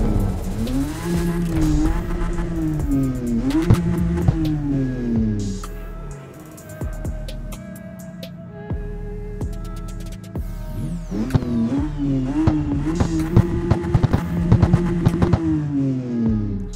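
A convertible Toyota Supra in the video game CarX Street revs its engine loudly, rising and falling in repeated sweeps, with a brief quieter lull in the middle before the revving climbs again.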